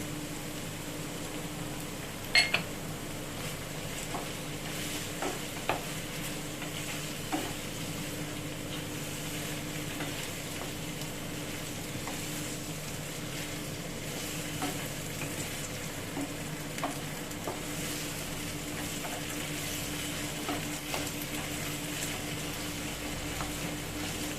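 Potato oturtma with tomato sauce sizzling steadily in a pan, with a continuous frying hiss and occasional scrapes and clicks of stirring throughout.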